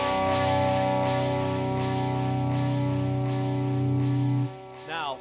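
A suspended second chord on electric guitar in a custom tuning, sustained and ringing with a slightly processed, effects-laden tone for about four seconds before it is cut off, followed by a brief scrape.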